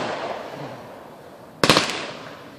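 Backyard fireworks and firecrackers go off outdoors on the Fourth of July. A sharp burst of rapid crackling pops rises abruptly out of a steady hissing background and then trails off.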